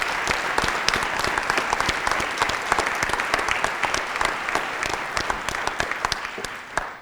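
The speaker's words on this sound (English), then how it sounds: "nice round of applause and welcome for our panel." Audience at a community panel discussion on the opioid crisis in Shrewsbury, Massachusetts applauds the panel's arrival, crisp individual claps standing out within a steady, fairly loud burst that fades near the end.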